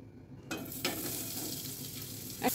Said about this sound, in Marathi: आता आपल्याला 2 चमचे तेल घालायचे त्याच्यात। कांदे घालायचे।